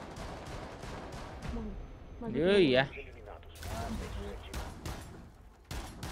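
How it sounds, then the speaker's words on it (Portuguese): Gunfire in the Rainbow Six video game during a ranked match, a burst of shots under excited Portuguese talk among players, with a loud tonal game effect partway through. "Olha o tanto de tiro."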